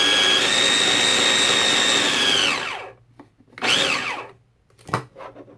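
A blender churning fluid paint runs with a steady high whine, then winds down and stops, followed by a couple of brief pulses as it is restarted.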